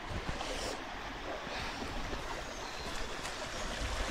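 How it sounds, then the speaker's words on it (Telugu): Waterfall flowing at Savanadurga, a steady broadband rush of falling water heard close, with no voices. "ఎంత సౌండ్ వస్తుంది. జలపాతం పారుతూ ఉంది."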